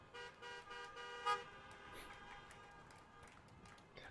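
Car horns honking at an outdoor Tesla shareholders meeting and Battery Day event, repeated toots in a busy crowd, distant and mixed with cheering and background voices.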